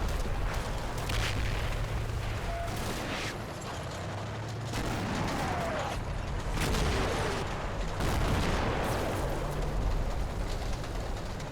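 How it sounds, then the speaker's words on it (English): PIAT mortar fire and explosions in the Combat Mission video game set during Operation Epsom, heard as dense continuous rumbling battle noise with scattered booms and cracks throughout. "My Piat mortar whistles over the top"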